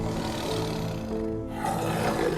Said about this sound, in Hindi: तभी जंगल में से शेर की दहाड़ने की आवाजें आने लगी।